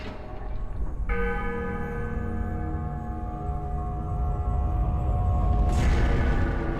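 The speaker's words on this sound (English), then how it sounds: "ring the bell by grappling the chandelier, having it swing" A large church bell in the Tomb Raider Legend video game rings out with a sustained, resonant tone, swelling and then struck again near the end, loud and steady with no talk over it.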